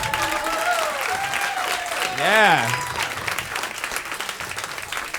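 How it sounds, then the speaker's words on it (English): A stand-up comedy audience applauds the comedian's mom, a broad swell of clapping and cheers that peaks midway, with a short spoken word and melodic tones over it. "that's probably the biggest applause you ever got"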